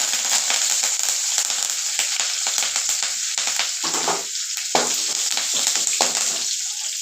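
Fennel seeds and curry leaves frying in hot oil for a goat blood fry, with a loud, close, continuous sizzle and crackle and bursts of popping and spattering as the pan is stirred.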